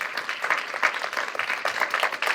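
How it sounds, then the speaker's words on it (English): An audience at a community panel event on Black Annapolis applauds its panel of experts, lively, close clapping that rises and dips in bursts for a couple of seconds. "Round of applause for our panelists of experts."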